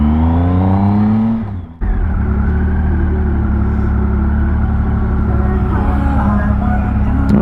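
A Harley motorcycle engine rumbling past loudly and close, with an earlier pitch sweep before a sudden cut, then a steady throaty drone as the bike moves along.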